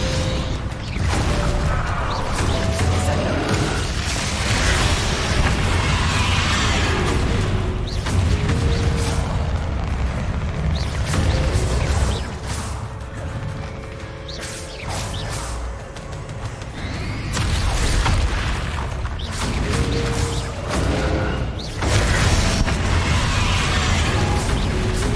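Spell explosions from Confringo and Bombarda blasts in the video game Hogwarts Legacy, a steady run of loud booms, pops and whooshing bursts over game music and effects, continuous and dense throughout.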